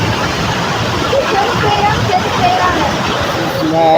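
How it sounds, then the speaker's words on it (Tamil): Manimuthar waterfall roars in a steady, loud wash of falling water, with a crowd of bathers chattering and shouting faintly beneath the rush. "மணிமுத்தாறு அருவிக்கு வந்திருக்கோம்."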